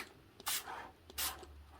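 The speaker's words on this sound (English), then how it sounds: "I'm going to spray it." A spray bottle mists water onto watercolor paper in two short, soft spritzes about a second apart, quiet and close with near silence between them.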